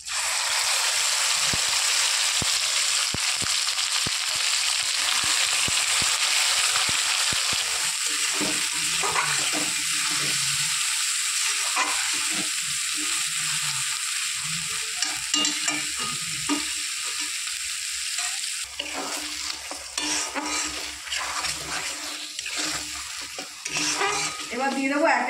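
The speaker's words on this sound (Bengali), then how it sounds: "দিয়ে দেবো আদা রসুনের পেস্টটা।" Ginger-garlic paste sizzles loudly in hot oil with whole cumin, dried red chilies and whole garam masala while being stirred for masala chicken. A constant bright hiss carries repeated scraping strokes, and the sizzle eases slightly toward the end.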